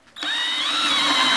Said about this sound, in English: I'm going to simply take the 3/8 inch spade bit, and I'm going to drill down through the middle here